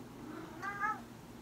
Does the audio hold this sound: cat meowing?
yes